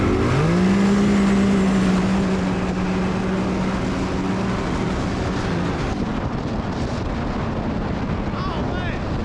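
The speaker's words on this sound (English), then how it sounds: "All right, y'all, we got a drag race." A stage 5 tuned turbo Polaris RZR launches in an off-road drag race, its engine rising into a loud, close, sustained roar that then fades into rushing wind and rumbling noise.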